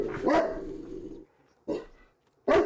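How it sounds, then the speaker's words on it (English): A dog barks in a short run of loud, harsh barks, then two more single barks after brief pauses, nearby and with no talking over them. "Yeah, dog. Dog."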